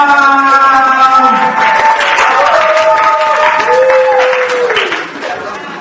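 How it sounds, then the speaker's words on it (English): Applause and clapping from an audience at a gospel lecture for the deaf, mixed with singing or sustained voices and tonal harmonics, steady and fairly loud before tapering at the end. "Shall we clap for them?"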